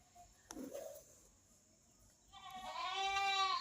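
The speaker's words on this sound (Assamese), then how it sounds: "সেইফালে ছাগলীয়েও চিঞৰি আছে।" A goat bleats once near the end, a drawn-out, quavering call that rises out of a quiet background after a brief soft knock.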